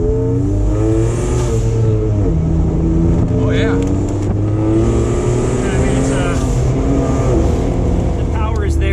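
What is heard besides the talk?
turbocharged Jeep engine spooling and revving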